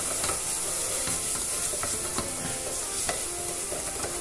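Garlic frying in a pan with black pepper stirred in, a steady close sizzle with scattered scraping and clicking from stirring, no voices.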